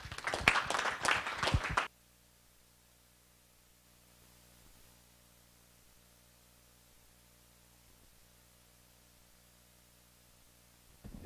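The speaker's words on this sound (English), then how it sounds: "So how about a big round of applause for Larry?" A conference audience at a talk on ARM servers and Xen gives a short burst of loud applause for speaker Larry, which cuts off abruptly into a quiet, humming room.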